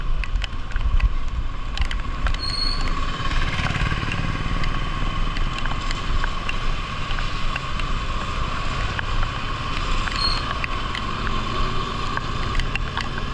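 A motorbike ridden in the rain gives a steady engine drone beneath constant wind rush and hiss for the whole stretch, close and unbroken, with no talking.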